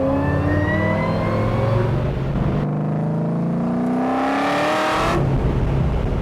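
A 1962-67 Chevy Nova on a spec chassis revs hard while driving, its engine climbing through the gears with loud, rising pitch sweeps and a brief shift break, heard up close.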